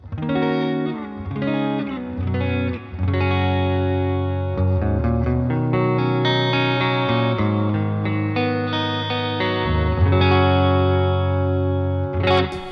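A Yamaha Revstar RS720BX electric guitar is played on the neck pickup with volume and tone full through a Fender Deluxe Reverb amp simulation. Clean, warm chords and single notes ring out with gentle reverb, loud and close, with no talking.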